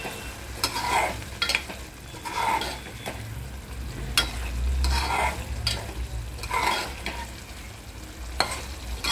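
Chicken liver kaleji fries in a kadhai as the water cooks off, giving a continuous close sizzle broken by regular scraping stir strokes, with no voices.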